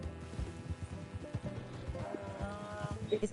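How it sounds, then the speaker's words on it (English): A donkey brays in the video game Red Dead Redemption 2. It is a fairly faint, strained, harmonic call rising near the end, over soft game ambience and light hoof-like clatter. "It sounds like a donkey."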